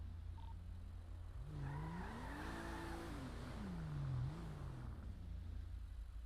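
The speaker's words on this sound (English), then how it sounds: "I'm just grabbing my car out of the impound here." A car engine revs in a role-play video game, rising in pitch, holding, then falling again over a few seconds. The sound is fairly quiet and steady over a low background drone, with no talking.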